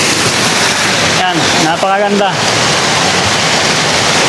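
A river at Sitio Imus ng Kastila in Alfonso, Cavite rushes with a loud, steady broadband roar that fills the scene throughout, while someone briefly speaks over it near the middle.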